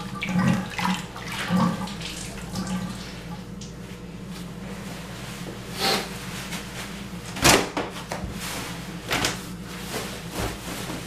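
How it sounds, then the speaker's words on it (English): Clean water runs into a bathtub for rinsing down gear, a steady gush of running water with a few knocks and splashes of handling breaking in along the way, close by and with no talking. "you're going to fill the bathtub back up with clean water, no soap, about 6 to 8 inches again"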